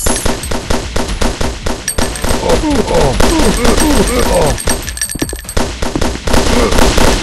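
Rapid bursts of gunfire with metallic impact clangs on a target, loud and dense with overlapping volleys and brief pauses, mixed with a steady background bed.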